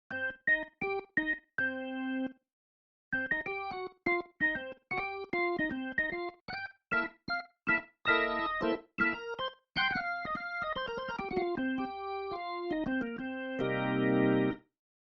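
Tonewheel organ with percussion switched on plays a series of short chords and runs with a crisp percussive attack on each note, ending in a sustained chord.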